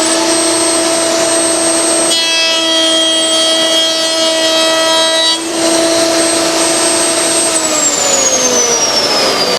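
Router running a bit through two wooden door rails held on a coping sled against a backer block, a loud steady high whine whose pitch shifts as the bit cuts, then winds down.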